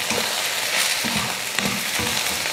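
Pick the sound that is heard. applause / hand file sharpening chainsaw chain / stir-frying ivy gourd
stir-frying ivy gourd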